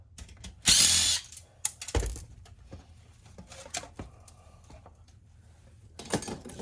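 Screws being backed out of the plastic front cover of a security system during e-waste scrapping, heard as a loud burst of ratcheting tool noise followed by scattered clicks, taps and small mechanical rattles up close.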